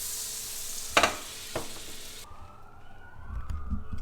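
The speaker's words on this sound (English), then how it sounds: "I'm just chucking the whole thing of butter in there" A whole stick of butter with olive oil sizzles in a hot pan, a close steady hiss lasting about two seconds before cutting off into quieter kitchen sounds.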